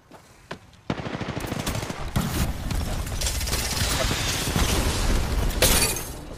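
Rapid bursts of automatic gunfire crackle loudly in a match of The Finals, starting with a few isolated shots, then a sustained hail of rounds with sharp impacts and shattering debris close by.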